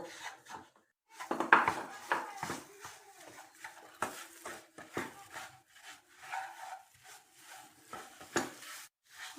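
Semolina is stirred in a pan with a utensil while it browns for rose sandesh, producing quiet intermittent scraping and rubbing strokes, close but faint, with no clear sizzle.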